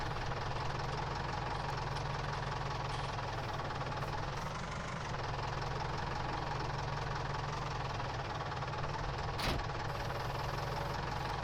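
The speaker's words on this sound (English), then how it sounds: "watch me tip this tractor over with the weight" Steady tractor engine drone from a farming simulation game, running continuously at a constant mid-level rumble with a brief click near the end and no talking.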